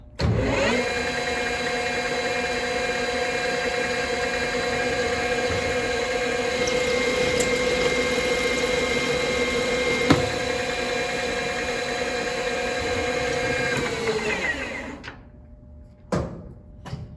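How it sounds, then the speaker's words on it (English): A metal lathe takes a 100-thousandths cut off the diameter of a ball peen hammer blank, a steady whining drone with tonal harmonics that runs for about fourteen seconds, then winds down into silence with a couple of faint clunks. "now I'm going to take a 100 thou cut off the diameter for this cut to bring it down to 880"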